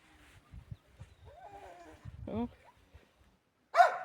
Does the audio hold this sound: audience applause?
no